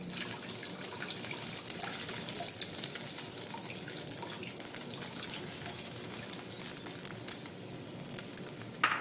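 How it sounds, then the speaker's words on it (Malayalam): Tamarind water poured into a pan for injicurry, a faint, steady liquid trickle and splash lasting several seconds, with no one talking. "ഇനി നമ്മൾ ഈ പുളി ഒഴിച്ചു കൊടുക്കണം."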